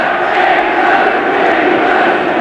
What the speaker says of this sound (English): Good encouragement for England now from the crowd.